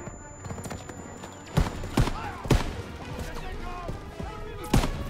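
Sharp gunshots crack out in a video game firefight, four distinct reports spaced unevenly over a few seconds against a busy background of ambient game noise.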